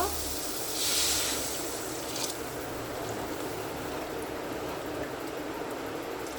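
Water poured into mixed vegetables fried on high heat for hot and sour soup gives a loud, steady hiss that swells near the start and then settles into an even, close simmering rush.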